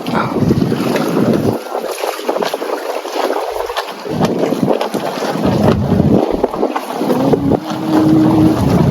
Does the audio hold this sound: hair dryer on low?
no